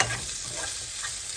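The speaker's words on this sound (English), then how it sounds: "I'm making this is pecan smoked sausage, and I'm just frying it up" Pecan smoked sausage sizzles and spits steadily in a frying pan in a home kitchen, a close, continuous crackle with faint stirring scrapes and no voices.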